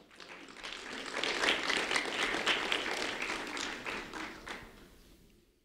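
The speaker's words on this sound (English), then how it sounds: "a round of applause for Annabelle Hurtado, please" A ceremony audience gives a round of applause for a fourth-grade student being honoured. The soft, distant clapping swells up, holds for several seconds, then fades away.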